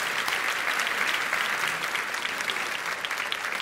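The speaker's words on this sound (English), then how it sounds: "so please give her a round of applause." Theatre audience applauding steadily, a dense even patter of many hands clapping throughout, fairly loud and sustained with no speech over it.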